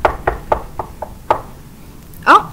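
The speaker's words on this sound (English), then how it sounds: "Oh, another knock at the door." A series of about six firm knocks on a door, close and loud in an uneven rhythm, followed by a brief vocal sound at the end.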